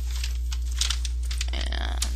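Rustling and crinkling of cardboard and paper being handled up close, with scattered crisp tearing and crumpling noises over a steady low hum.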